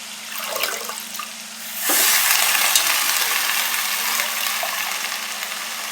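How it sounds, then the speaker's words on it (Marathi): Fenugreek greens with moong dal and onion hit a hot pan and sizzle. A quieter spell of frying swells abruptly into a loud, steady hiss that holds to the end. "भाजी छान परतून घ्यायची आपल्याला."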